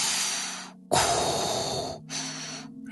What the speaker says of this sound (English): I'll stop breathing weird into the mic now